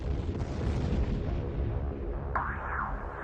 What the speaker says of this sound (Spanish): Mientras el avión penetraba el edificio, hubo explosiones múltiples.